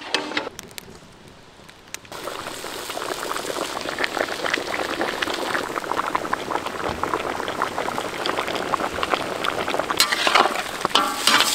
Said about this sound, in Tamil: நல்லா கொதிச்சு சுண்டட்டும்.